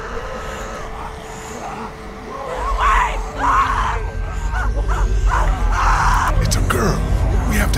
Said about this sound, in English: Stop screaming like an idiot.